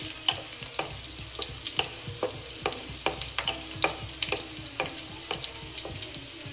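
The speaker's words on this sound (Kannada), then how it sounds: "ಎಲ್ಲ ಹಸಿಯ ವಾಸನೆ ಹೋಗೋವರೆಗೂ ಫ್ರೈ ಮಾಡೋಣ." Chicken pepper dry frying in a pan with plenty of curry leaves, heard as a close, continuous sizzle broken by frequent rhythmic scraping of a spatula stirring the pan, with no talking.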